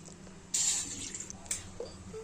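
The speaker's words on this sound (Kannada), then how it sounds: "1 ಗ್ಲಾಸು ನೀರು ಹಾಕೊಂಡಿದ್ದೀವಿ" Water from one glass poured into a pot on a gas stove, a sudden splashing gush that starts loud then tapers off, followed by a few softer clinks and trickles, close by with no talking.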